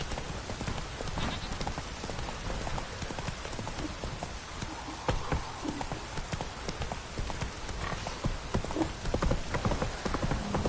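Roach, a horse in The Witcher 3, gallops through rain, hooves clip-clopping in a steady rapid rhythm over a constant patter of rainfall, close and fairly loud throughout.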